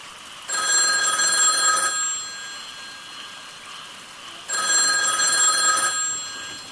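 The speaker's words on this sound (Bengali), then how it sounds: "হঠাৎ শত নিস্তব্ধতা বিদীর্ণ করে বেজে উঠল টেলিফোনটা" A telephone bell rings in two long trilling bursts separated by a pause, loud and close, with a faint hum between rings and no speech.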